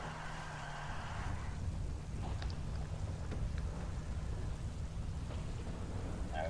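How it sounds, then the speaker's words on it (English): Steady rain and a low rumble of thunder from a thunderstorm in the game GTA Online, a constant moderate wash of rain noise with a low engine-like drone and a few faint clicks underneath. "I'm so digging the thunderstorm like this."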